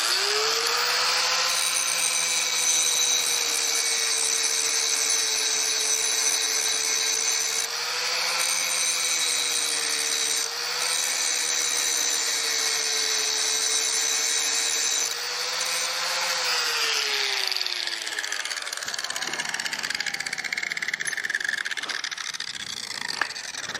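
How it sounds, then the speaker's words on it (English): Handheld Walmart angle grinder fitted with a Harbor Freight wheel, grinding steady and loud for about seventeen seconds with a pitch that dips slightly once or twice, then spinning down and going quiet. "I gotta think it's a Walmart grinder with a Harbor Freight wheel on it."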